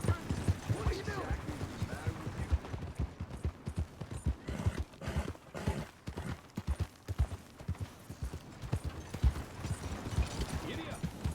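Horse hooves clip-clop in a rapid gallop in Red Dead Redemption 2, with whinnies and a rider's voice over the rhythmic beat.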